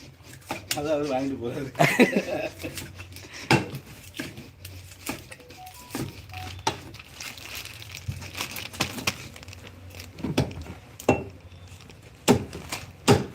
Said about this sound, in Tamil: இவர் மீனை கட் பண்ணி கொடுக்குறாரு